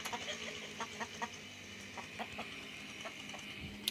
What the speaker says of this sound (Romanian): Găină nebună!